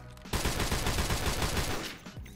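An M14 rifle in Modern Warfare Remastered fires repeatedly in a fast, unbroken volley of loud, close shots that run for about two seconds before stopping abruptly.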